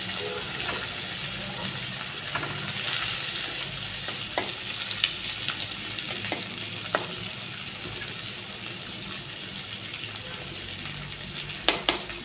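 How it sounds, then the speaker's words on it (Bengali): Dried Bombay duck (loitta shutki) frying in a pan with salt and turmeric, giving a steady sizzle with occasional stirring scrapes and a few sharp utensil clinks near the end. "নুন হলুদ দিয়ে এখন লোটে শুটকিগুলোকে ভেজে নিচ্ছি"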